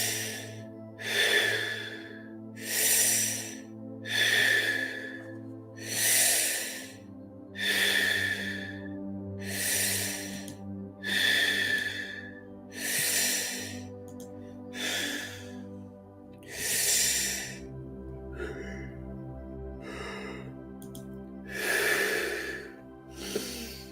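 Slow, deep breaths drawn in and let out during a conscious breathwork session, about a dozen long cycles in a steady rhythm, each exhale rushing audibly, close and fairly loud over a low sustained drone of background music.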